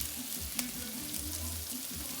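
Fresh thyme sizzles and fries in a pan for corned beef while a utensil stirs it, giving a soft steady crackle with a few faint scraping strokes, quiet and close.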